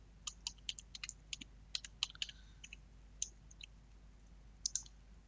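Keys clack on a computer keyboard in quick irregular bursts of taps, faint and close, with pauses between typed words and no talking.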